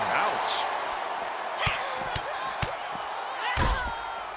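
Wrestler slammed onto the ring mat during a no-DQ women's wrestling match, a few sharp thuds and impacts over a loud, steady arena crowd with a commentator talking throughout.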